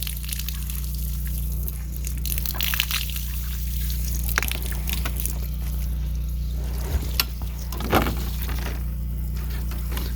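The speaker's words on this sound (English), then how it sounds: "So you can see that water coming out there." Water drains and trickles out of a frost-proof yard hydrant pipe at an old barn, a steady low wash with small splashes and drips, continuous and fairly close.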